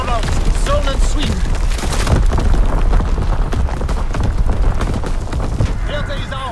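An artillery barrage pounds a target zone in the World War II shooter Call of Duty: WWII. Loud, overlapping booms and crackling blasts roll on without pause, with radio voices cutting through.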